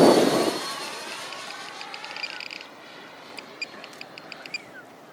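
Freewing T-33 RC EDF jet model, kit-bashed into a P-80 Shooting Star, passes with a loud ducted-fan whoosh at the start that fades into a distant whine, followed by faint high chirps and quiet outdoor background.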